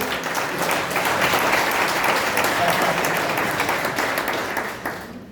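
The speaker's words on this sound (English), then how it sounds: "A round of applause, please." An audience gives sustained applause, a full, even roar of many clapping hands that fades out over the final second.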